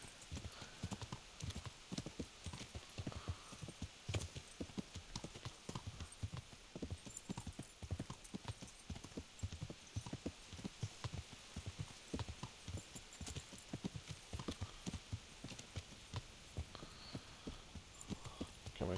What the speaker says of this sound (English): Don't mind the horse.